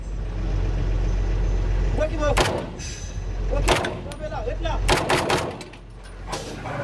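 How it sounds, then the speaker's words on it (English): Incoming gunfire strikes a police vehicle during an armed operation in Haiti: loud sharp cracks and impacts over a constant engine rumble, with voices heard around them. "the police vehicle is hit by incoming fire"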